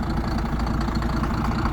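A 12.5-litre straight-six turbo diesel engine idles with a loud, steady low rumble and a faint knocking pulse, with no talk over it.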